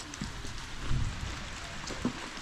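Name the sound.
rain in a village garden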